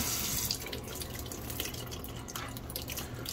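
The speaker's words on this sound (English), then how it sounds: "We'll go ahead and get the sink running with cold water." Cold water running from a kitchen sink tap, a steady close splashing hiss with small drip-like spatters throughout.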